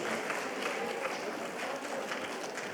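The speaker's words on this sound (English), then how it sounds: "A big round of applause, please." Steady, moderately quiet applause from an audience at a yoga summit talk runs through the whole clip, a continuous wash of many hands clapping with faint crowd murmur underneath.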